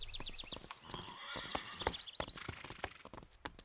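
A cartoon horse named Pepper neighs and whinnies in agitated bursts, with hoof clops and shuffling around her, loud and close, with no talk.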